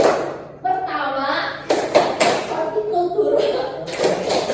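A group clapping game called tepuk pertanian at a participatory facilitation session, with a few sharp bursts of hand claps mixed in among a leader's voice and other voices talking.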